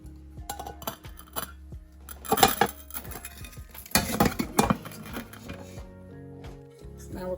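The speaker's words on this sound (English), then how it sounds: "I'm going to flip it over once onto a plate and then back over." A sweet potato cinnamon roll pound cake is turned out of its pan onto a plate, with scattered clinks and knocks of pan and dish, two louder clattering bursts midway, close by and without talk.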